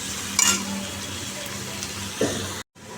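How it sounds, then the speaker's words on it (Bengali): Fish frying in a pan gives a close, continuous sizzle, with a couple of short utensil scrapes and stirring sounds. The sound cuts out briefly just before the end. "মাছ ভাজা হয়ে গেছে নামিয়ে দিলাম"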